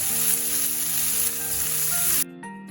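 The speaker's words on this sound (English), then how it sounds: "Immediately add the onions and saute everything together for at least 3 minutes till the onion changes color." Onions and garlic sizzle briskly in a hot pan for a baingan bharta, a loud continuous frying hiss that cuts off abruptly near the end, followed by a quieter crackle.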